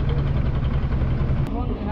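A trawler's engine idles steadily at a floating market before departure, a continuous low rumble throughout with voices talking nearby.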